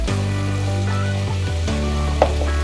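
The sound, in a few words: dry chili powder added to frying spices, sizzling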